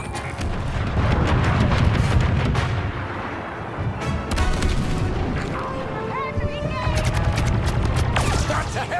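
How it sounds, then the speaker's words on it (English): Orbital barrage in Star Wars Battlefront 2 during the Battle of Jakku: heavy booming blasts and rumbling detonations roll in waves amid gunfire and battle noise, with voices shouting over them. "Orbital barrage, here! Orbital barrage connected!"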